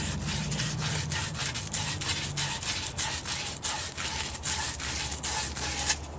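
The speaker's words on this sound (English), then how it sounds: "I'm going to use my emery cloth." Emery cloth is rubbed back and forth over a copper pipe section to clean it, a close rhythmic scraping with rapid regular strokes throughout.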